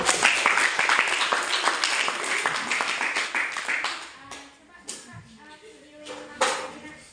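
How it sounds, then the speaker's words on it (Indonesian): Students in a biology classroom clap for a classmate, a burst of applause at the start that thins out and fades, with voices chatting underneath and a few scattered later claps. "Tepuk tangan dulu."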